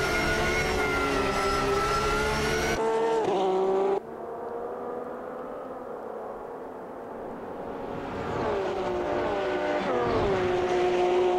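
Porsche race car in Automobilista 2 on the Nordschleife, engine loud and close, dropping sharply in pitch under hard braking with a sudden cut around the four-second mark, then revving back up as it accelerates out.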